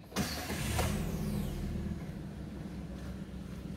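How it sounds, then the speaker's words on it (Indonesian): A 2021 Wuling Formo blind van engine cranks and catches with its door open, then settles into a smooth, low idle close by. "saya akan nyalakan mesinnya ya dalam keadaan pintu terbuka"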